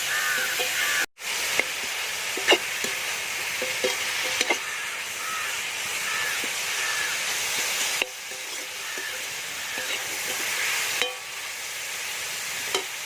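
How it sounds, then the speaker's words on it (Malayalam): Small onions (shallots) sizzle and fry in a pan for Kuttanad-style duck mappas, a steady loud crackle with occasional spoon stirs and scrapes, and one sharp clunk early on. "നമ്മുടെ ഉള്ളിയും ഇപ്പോൾ നല്ലപോലെ ഒന്ന് ചെറുതായിട്ടൊന്ന് വാടി വന്നിട്ടുണ്ട്."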